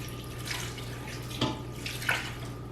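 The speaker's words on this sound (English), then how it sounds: "now I'm going to add my water, and I just want to add enough water to cover" Water pouring steadily into an Instant Pot holding chicken bones and skins for bone broth, a continuous splashing rush with a couple of slightly louder surges, with no talking.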